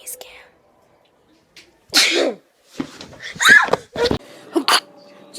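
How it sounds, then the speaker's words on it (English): Fake sneezes by people in a home setting, several sharp bursts and breathy snorts after a quiet start, close and fairly loud, with a little muffled voice between them. "Fake sneeze"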